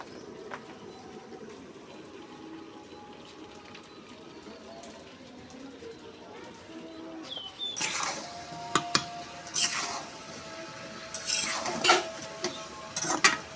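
A metal pot lid clanks and scrapes during the cooking of beef with taro stems, sharp clinks and rattles arriving in scattered bursts over a quiet kitchen background, with people speaking throughout.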